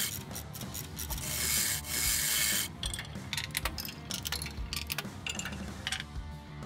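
A hand ratchet clicking in quick repeated strokes while bolting down frame rails on a stock 1995 Chevy S-10 mini truck build, joined by rasping and rubbing metal noise, close and continuous with no talking.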